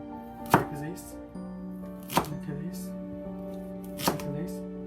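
A knife cuts through a carrot at an angle, making three distinct, evenly spaced chops on a board against a quiet background hum.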